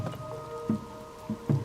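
Rain in The Legend of Zelda: Tears of the Kingdom falls as a soft, steady patter with a faint droning background, and a few heavier low thuds stand out at irregular moments.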